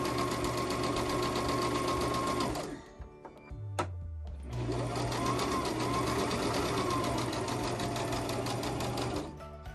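A sewing machine stitches fleece fabric in a fast, steady whir, pausing briefly midway with a clunk of the mechanism before running on again, loud and close.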